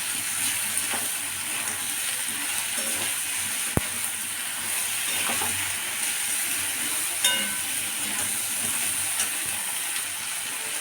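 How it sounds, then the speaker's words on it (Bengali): Potatoes frying in a pan with turmeric and chili powder give a steady, soft sizzle and crackle throughout, with a single sharp click partway through and no voices. "দিয়ে এবার এটা একটুখানি ভেজে নিতে হবে।"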